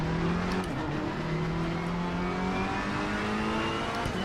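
Race car driven in Assetto Corsa Competizione on PS5, its engine droning steadily with a rising, shifting pitch as it accelerates, loud and continuous throughout with no talking.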